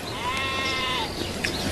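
A sheep bleats once in a long, wavering cry that fades out, heard fairly close over a steady outdoor background hiss.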